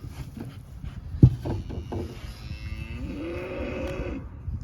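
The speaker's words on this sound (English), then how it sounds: "We let the cows out." Cattle from a feeder group of ten low and moo as they are let out of a barn onto pasture, with a drawn-out, wavering call rising after a sharp knock, over rustling and shuffling nearby.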